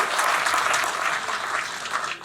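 Loud, dense applause from a crowd at a political rally for a municipal election, a steady wash of clapping that holds for the whole stretch before thinning slightly at the end.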